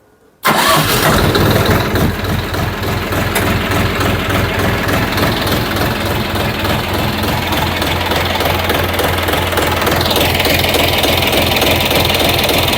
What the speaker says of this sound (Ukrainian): Буде у нас перший запуск після наших регулювань, хоч би не згорів.